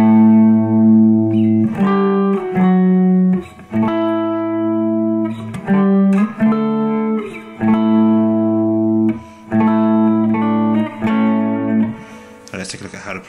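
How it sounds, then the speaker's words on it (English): An electric guitar slowly plays a blues-rock intro riff, with distorted chords and held double stops in choppy phrases separated by short gaps, loud and close, with no talking. "we're going to take a look at the intro riff, and I'll just play it a little bit slower so that you can see what's going on."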